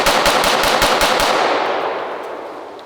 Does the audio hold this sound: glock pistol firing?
yes